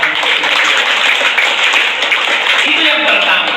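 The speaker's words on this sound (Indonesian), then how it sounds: "Kita berikan tepuk tangan." A crowd at an indoor gathering breaks into loud, dense applause, a continuous wash of many hands clapping together at close range that holds steady throughout.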